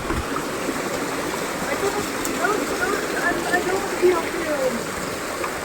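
A waterfall on a trail in India rushes in a steady, dense wash of falling water, close and continuous, with people talking under and over the roar.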